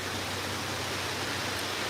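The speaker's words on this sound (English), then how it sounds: "You hear the rain up on the roof over there." Steady rain drums on a roof nearby, a constant even hiss filling the whole clip with no talk over it.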